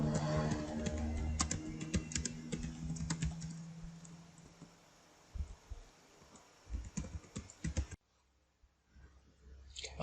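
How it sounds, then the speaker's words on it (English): Quick bursts of keystrokes on a computer keyboard as a message is typed, dense clicking at first, then thinning into scattered taps and a few isolated clicks toward the end. "So we type in the message here."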